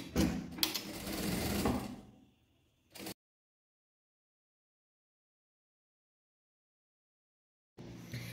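A sewing machine runs a quick burst of stitching along the edge of a folded fabric strip for a placemat, then slows and stops, with a brief knock before silence and a faint clatter at the end.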